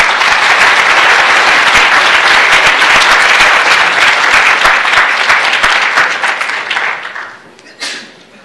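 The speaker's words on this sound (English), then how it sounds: "Let's all give everyone a round of applause." A pitch competition audience claps loudly and densely for the judges and contestants, then the applause fades out near the end.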